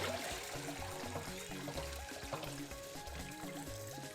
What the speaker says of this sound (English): Now, and I will go sieve it.